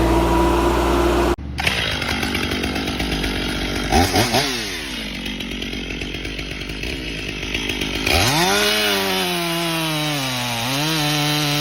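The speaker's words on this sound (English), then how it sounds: "in a flash, the sharp chainsaw roars to life" A chainsaw runs loud and close, its engine pitch dropping and rising as the blade bogs into a standing green tree and revs again, continuous throughout.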